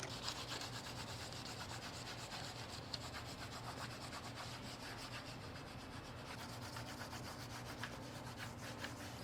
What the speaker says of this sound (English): I can just take a rubbing of it to give me the outline of the lettering